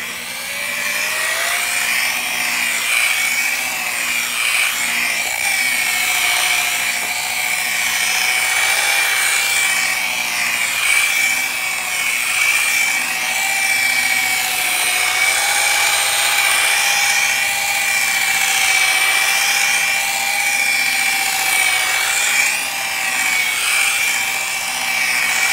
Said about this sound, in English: now I've changed with my pad to a finishing pad, and I'm just going to use some swirl remover to give us that final blend.